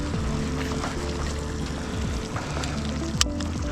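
A Mercury 9.9 HP outboard boat motor idles steadily on a lake, a low, continuous engine drone with a brief sharp knock near the end and no talking.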